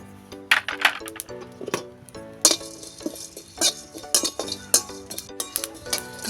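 Whole spices for mochar chop being dry-roasted in an empty kadai: a brisk run of metallic clinks, rattles and scrapes as the spatula tosses them, fairly close and with no voices.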